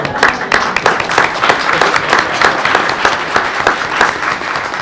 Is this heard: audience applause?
yes